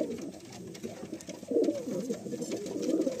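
Madrasi pigeons, a male and a female pair, coo nearby in low throaty murmurs that swell and continue softly throughout.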